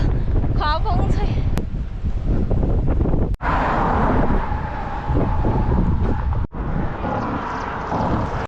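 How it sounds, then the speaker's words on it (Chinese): A strong gust buffets the microphone with a loud, continuous roar on a dusty mountain road along the Sichuan–Tibet 318 cycling route. A brief voice is heard near the start, and the wind dips twice for a moment. "突然一下子风好大，突然一下子狂风吹"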